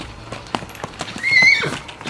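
Horses near a stallion's stable: scattered hoof clip-clops and knocks, then a clear, fairly loud neigh rising and falling in the middle, with faint other movement around.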